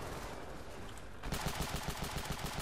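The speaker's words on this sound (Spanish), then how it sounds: "Están disparando para acá." Automatic gunfire in the video game Ravenfield, starting as a distant crackle under a noisy battle backdrop, then switching to a closer, louder burst of rapid, evenly spaced shots.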